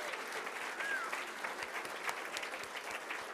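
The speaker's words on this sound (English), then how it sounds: "So let's give them a round of applause." Steady applause from an audience, a dense wash of clapping that holds at an even level for the whole stretch with no voices over it.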